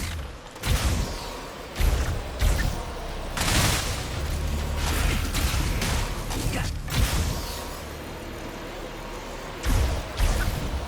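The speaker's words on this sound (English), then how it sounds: "The elevator's here." An elevator arrives and moves in Ratchet & Clank: Rift Apart, with several loud mechanical thuds and clanks spaced over a low steady rumble.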